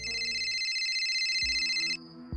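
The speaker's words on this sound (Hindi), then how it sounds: "उसने अभी अपनी कार नीचे पार्क की ही थी कि निधि का कॉल आ गया।" A phone rings with an incoming call, a bright repeating electronic ringtone that plays steadily and then cuts off abruptly, an audio drama effect with no voices.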